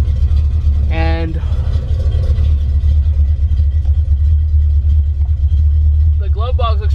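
A 1970s car engine idles with a steady low rumble that runs loud and constant through the whole stretch, while someone talks over it in short bursts.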